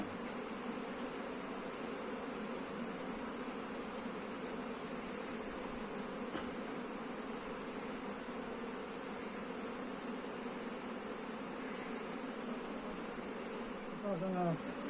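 Steady, dense buzzing of a honeybee colony at a package hive, a continuous drone throughout with no voices.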